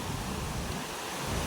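Steady rain with gusting stormy wind roars without pause, a dense continuous rush of weather noise with no one speaking.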